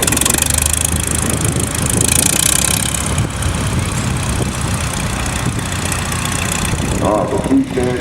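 A 1950 Oliver Turbo tractor engine runs in a farm parade, a loud steady mid-pitched drone close by with a broad rumble that stays constant throughout.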